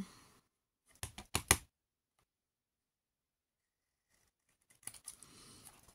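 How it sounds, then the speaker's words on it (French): Scissors snip through paper tags for a scrapbooking project in two short bursts of sharp cuts, with a faint rustle of handled paper near the end; close and quiet, with no talking. "j'ai découpé tout ce petit monde en forme de tag"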